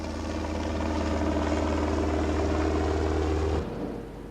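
A helicopter's engine and rotor drone loud and steady with a deep throbbing hum, then cut off abruptly, leaving a fading tail.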